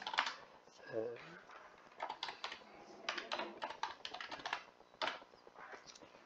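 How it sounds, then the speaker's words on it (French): A name being typed on a computer keyboard while filling in a form in GIS mapping software, with quick bursts of close key clicks in uneven clusters and someone talking briefly near the start. "Donc je vais taper un nom."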